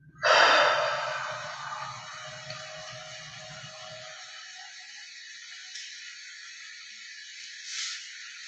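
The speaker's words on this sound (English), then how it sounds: "So I'm going to just take a deep breath in." A person takes one deep breath in, a sharp close inhale at the start that fades over several seconds into quiet room tone, with no speech.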